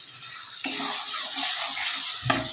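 Ground mustard paste for a bhetki fish dish fries and is stirred in a pan, bursting into a loud, hissing sizzle after a brief quiet moment, with a faint scrape near the end.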